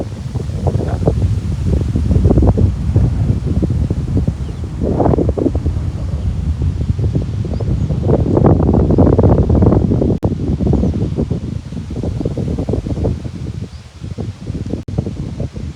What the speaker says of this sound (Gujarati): આમ કેટલાક ઝાડવાનું પવન ફૂંકાય છે. તો બધી નારિયેળો આમ હલ્લે છે